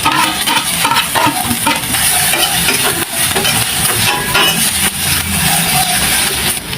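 Green onion leaves and green chili are stir-fried for salt and pepper squid. A loud, continuous sizzle carries repeated scraping stirs of the spatula against the pan, with no talking.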